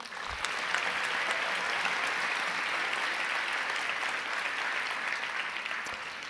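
Conference audience applause at a closing session, a steady, dense wash of clapping from a large crowd that holds evenly for the whole stretch.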